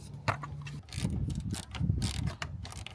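Hand ratchet loosening radiator bolts on a Toyota Prius C, a series of quick close clicking pawl strokes in uneven bursts, fairly quiet.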